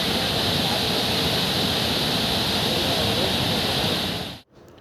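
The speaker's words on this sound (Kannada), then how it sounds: "ಅಬ್ಬೆ ಫಾಲ್ಸು ನಾವು ಹೋದಾಗ ಫುಲ್ಲು ಮಳೆ ಬರ್ತಿತ್ತು, ಅದಕ್ಕೆ ಇಷ್ಟೊಂದು ನೀರು ತುಂಬಿದೆ." Abbey Falls running full after heavy rain, a dense, steady roar of falling water that holds loud and unbroken before cutting off abruptly near the end.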